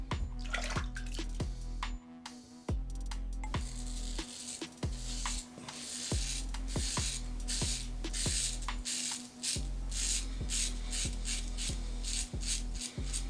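A Rockwell T2 safety razor scrapes across stubble in rhythmic, close, rasping strokes, broken by brief pauses and bursts of running water from a tap.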